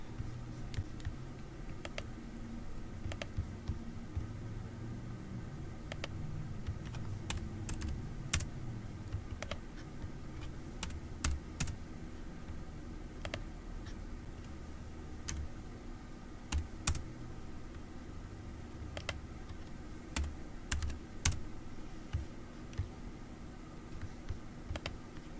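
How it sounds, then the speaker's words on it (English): Sporadic keystrokes click on a computer keyboard in irregular bursts over a quiet low hum, fairly close but soft. "as you probably can hear me on my computer typing"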